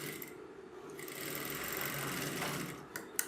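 A sewing machine runs steadily while stitching folded corner piping (magzi) on a kurti, giving a quiet, continuous hum for a few seconds, with a couple of small clicks near the end.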